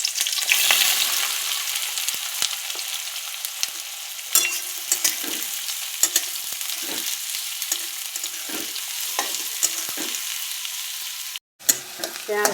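Onions frying in hot oil with whole cumin and chilli, a continuous bright sizzle punctuated by frequent spoon stirs and scrapes in the pan, close up with no talking.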